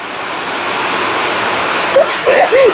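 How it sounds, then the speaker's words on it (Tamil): Dense, steady rushing noise of heavy night rain pouring down in Jaffna, Sri Lanka, with a few faint voice-like sounds near the end. "மழையை என்ன மழை அடிச்சு ஊத்துது"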